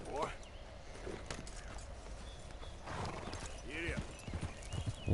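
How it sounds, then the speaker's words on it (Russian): A horse in the Red Dead Redemption 2 video game clip-clops at a walk with a short neigh partway through, the hoofbeats fairly close and set over quiet outdoor ambience and faint talk. "Так, где конь?"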